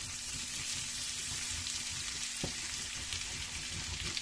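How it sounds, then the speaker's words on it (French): Shrimp frying in butter in a pan, a faint, steady sizzle and bubbling hiss with a soft clink partway through, heard close and alone. "Lorsque les crevettes commencent à colorer, on va ajouter le beurre"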